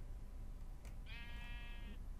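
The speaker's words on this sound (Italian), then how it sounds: "là c'è una pecora su un albero" A sheep in the Minecraft video game gives a single short bleat, clear and steady over a low background rumble.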